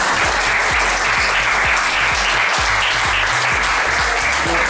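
An audience bursts into loud, sustained applause with a dense mass of clapping hands at a queens' coronation ceremony held by a community foundation in Santa Ana, El Salvador, continuing without pause and drowning out any talk.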